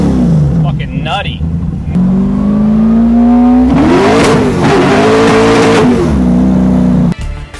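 A 447 cubic inch Windsor V8 revs loudly up close, its pitch climbing and falling through several blips, with people talking over the engine.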